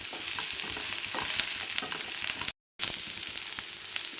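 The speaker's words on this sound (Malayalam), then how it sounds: "ഇനി ഇതിലേക്ക് നമ്മൾ അരിഞ്ഞ് വെച്ചിരിക്കുന്ന വഴുതനങ്ങ ചേർത്ത് കൊടുക്കും. നന്നായിട്ടൊന്ന് ഇളക്കി കൊടുക്കും." Chopped eggplant frying and being stirred in a pan, giving a steady broadband sizzle with scraping stir noises. A brief dropout to silence interrupts it midway, then the sizzling resumes.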